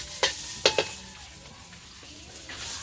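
Onion, garlic and chili pepper frying for a Surinamese duck curry, a steady close sizzle broken by a few sharp clacks of a spoon stirring the pan, with no talk.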